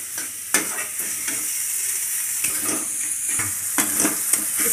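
Paneer bhujiya fries on a low flame in a pan, with a constant soft sizzle and repeated scraping stirs of a spoon against the pan, close and clear.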